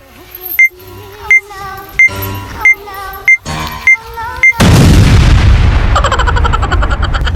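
A loud bomb explosion sound effect bursts after a string of sharp, evenly spaced clicks with chiming tones, then a long, rumbling, ringing decay.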